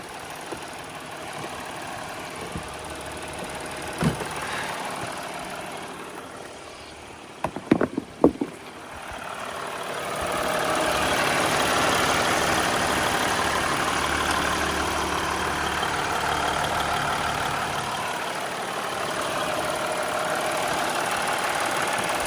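A Jeep Grand Cherokee with a brand-new engine runs at a steady idle, a continuous low rumble with a few brief clicks and knocks partway through.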